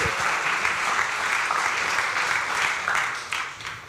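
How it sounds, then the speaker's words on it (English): An audience at an indie game pitch event applauds in a full, steady burst of clapping, loud and sustained before tapering off near the end. "Let's give them a round of applause,"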